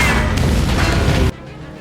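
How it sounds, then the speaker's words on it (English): A tank cannon fires in a World War II tank battle, a loud, dense, sustained blast that cuts off abruptly into a quieter rumbling tail. "Then it came, a thunderous blast."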